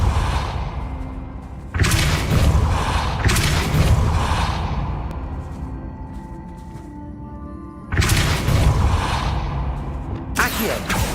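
The Depulso force-push spell is cast in Hogwarts Legacy, heard as several loud whooshing, thudding bursts separated by quieter gaps, with no speech over them.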